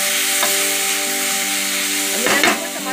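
Chopped tomatoes being mixed into sautéed vegetables for masala macaroni pasta in a pan, a steady close sizzle under a low electrical hum, with a burst of scraping strokes near the end.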